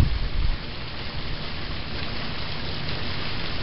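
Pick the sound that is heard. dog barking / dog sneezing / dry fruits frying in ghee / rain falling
rain falling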